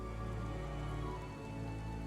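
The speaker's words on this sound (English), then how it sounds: "I really like when it rains in this game." Steady rain falling in a forest area in Final Fantasy XIV, a soft continuous patter of drops on surfaces, fairly quiet and even throughout with no voices.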